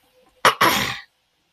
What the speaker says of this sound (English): that was more like a throat clear